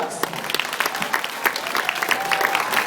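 Audience applause at a Grant's Farm show in St. Louis, a steady wash of many hands clapping through the whole stretch, fairly close and full, with faint crowd murmur mixed in.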